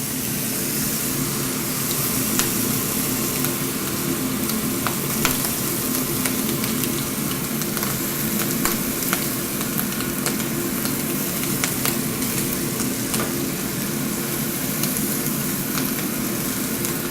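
Turmeric shrimp skewers sizzle loudly and steadily in a pan while being brushed with butter, a constant close crackling hiss with small pops scattered through it and no talking.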